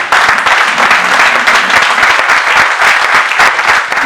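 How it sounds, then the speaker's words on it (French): Loud, dense applause from a large audience welcoming invited guests at a formal gathering, a continuous roar of many hands clapping close by, steady across the whole stretch. "Est-ce que sous vos acclamations, s'ils sont là, ils peuvent se lever"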